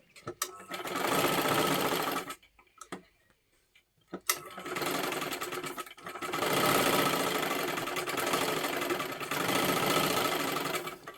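A sewing machine stitches a lining into silky fabric in two long runs with a short pause between, running close and steady, with brief quiet gaps.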